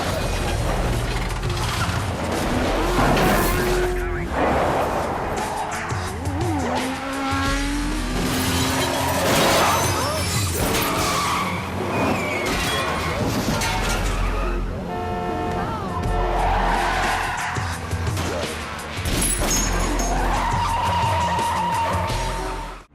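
A film car chase with pursuing motorbikes fills the scene, tires screeching and skidding repeatedly over roaring engines, loud and dense with crashes and some shouting voices mixed in.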